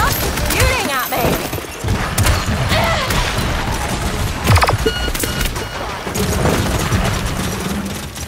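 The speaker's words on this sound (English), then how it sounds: "Hey, stop shooting at me!" Gunfire in the shooter game Paladins, loud rapid shots and mechanical clatter mixed with impacts and game voice effects throughout.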